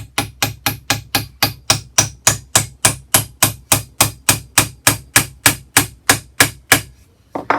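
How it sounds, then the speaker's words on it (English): Hammer blows drive a nail set to sink nails into wood on a tool tray project, about twenty sharp evenly spaced strikes, loud and close, steady rhythm with a pause at the end. "It's used to put the nails in all the way so that it puts a little dimple in there."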